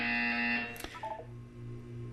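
An electronic buzzer sounds in the video game Portal 2, a short tonal tone that drops away into a quieter game hum, faint and without speech.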